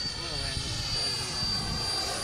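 A Banana Hobbies AF Model L39 jet with a 105mm ducted fan roars past on a flying pass, a continuous high, airy turbine whine and rush that holds steady and loud throughout.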